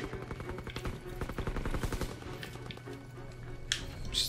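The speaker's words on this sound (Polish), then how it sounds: "Strzały to ja cały czas słyszę" Rapid bursts of automatic gunfire crackle in quick succession in the video game Call of Duty WW2, fairly close, followed by a few scattered shots and sharp impacts.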